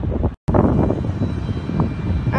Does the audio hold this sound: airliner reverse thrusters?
yes